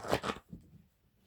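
A deck of playing cards is riffled by hand in a short, quiet burst of two quick papery flutters, followed by faint low rustling, heard up close in a quiet room.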